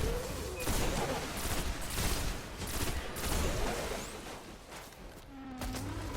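Shotgun blasts in the video game Destiny ring out as a handful of sharp, booming reports at uneven intervals over a busy game soundscape, moderately quiet overall.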